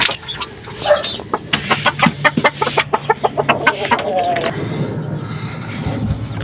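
Hens cluck in a quick run of short, close calls beside a clutch of eggs, while someone speaks over them.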